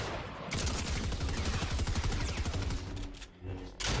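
Rapid gunfire bursts in a Fortnite match, a player armed with a shotgun; loud, dense volleys run almost without pause, then cut out briefly near the end before a last burst.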